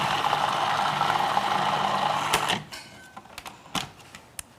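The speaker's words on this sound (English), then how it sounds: "Now this is only going to need about 15 seconds more in the food processor at this point." A food processor runs at a steady, loud whir for a couple of seconds, then shuts off, leaving a few faint clicks and clatters close by.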